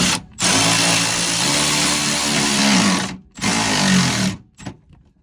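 A power tool fitted with a 12 socket on a short extension drives a side step bolt tight on a Dodge RAM Cummins truck, giving two loud, steady whirring bursts close by, the second shorter, with a brief pause between.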